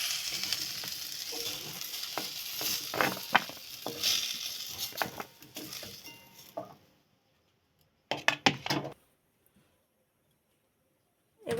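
Potatoes frying in oil with salt and turmeric: crackling sizzle and scraping stirs for several seconds, then silence, a short burst of clattering movement and quiet again.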